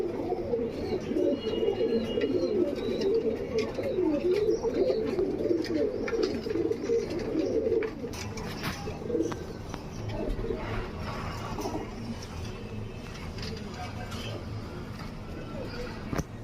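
Breeder pigeons kept for sale coo steadily and close by, a dense layered murmur that is strongest in the first half and continues more softly afterward, with faint chirps on top.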